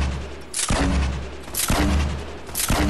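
Gunfire in Fortnite Battle Royale, three loud, sharp booming shots spaced roughly a second apart, each with a short rumbling tail, no voices.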